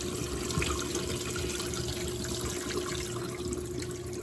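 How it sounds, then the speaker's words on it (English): Water drains off watermelon rind that has soaked overnight in salt water in a kitchen, a faint steady trickle and splash with a constant watery hiss and no talking. "I'm gonna drain the water off"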